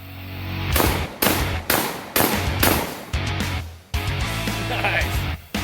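A RIA VRBP100 12-gauge bullpup shotgun fires about eight loud, sharp blasts in a steady rhythm close by, each shot followed by a short ringing tail.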